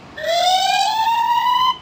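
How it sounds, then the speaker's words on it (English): Electronic fire engine siren from a children's learning book: a single long tone that slowly rises in pitch and holds, sounding clear and near before cutting off. "fire engine,"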